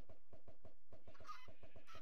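Chicken clucking in the video game Minecraft: a rapid, even run of about a dozen short clucks, close and clear, with no talking.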